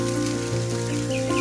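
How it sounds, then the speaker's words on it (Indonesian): Rain falling outdoors during a search for waru roots for bonsai, a steady wash of patter with a low constant hum underneath and a faint chirp near the end. "Ini cuaca lagi hujan"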